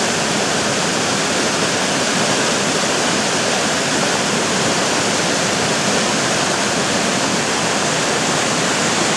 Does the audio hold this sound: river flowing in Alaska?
yes